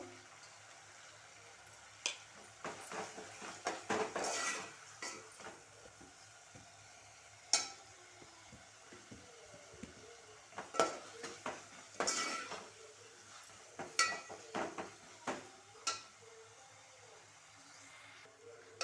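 Ginger paste with turmeric fries in a pan for chicken curry, heard as a faint, low sizzle behind repeated clinks and scrapes of a spoon against the pan, scattered irregularly and fairly quiet, with no speech.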